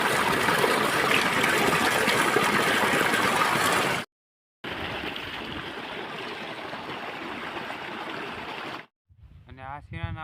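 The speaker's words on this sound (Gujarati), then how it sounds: "આપણું પાણી અહીંયા આવી ગયું છે" Irrigation water, dosed with sulfur, gushes steadily into a chickpea field in a loud, continuous rush. It cuts out briefly near the middle and stops near the end, where a voice is heard.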